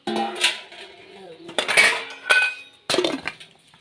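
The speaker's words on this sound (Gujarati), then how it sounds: "તો જો આપણે વાસણ ખાટલીમાંથી લઈ લીધા છે" Steel pots, plates and cutlery clatter and clink as they are lifted from a cot in a home kitchen, arriving in three or four loud, close bursts separated by brief pauses.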